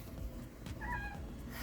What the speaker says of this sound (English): My cat decided to join.